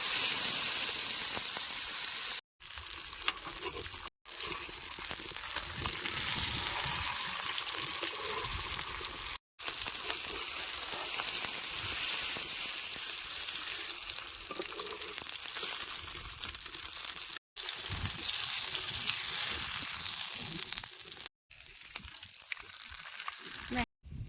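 Continuous loud sizzling of whole puti fish frying in hot oil, broken by several short silent cuts.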